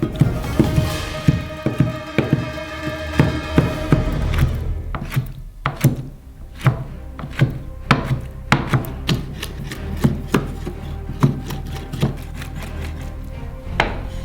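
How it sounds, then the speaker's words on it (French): A knife slices boiled squid into very thin strips on a cutting board for sushi rolls: quick, steady chopping taps, close and crisp, with a brief rubbing scrape at the start before the regular rhythm. "Coupez le calmar en tranches très fines."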